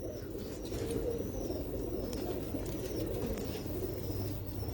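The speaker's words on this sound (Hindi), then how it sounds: "ये देखो जी, ये देखो, हाथ पे रखी हुई है कबूतरी।" A female pigeon held in the hand gives soft, low cooing, with faint bird chirps and some handling rustle in a quiet outdoor setting, no talk.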